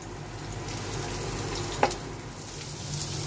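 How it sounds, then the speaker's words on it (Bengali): Rice coated with turmeric and salt fries in hot oil, a steady low sizzle with one brief sharp clink partway through. "চাউলটাকে একটু ভেজে নেব।"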